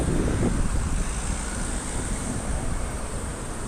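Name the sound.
wind blowing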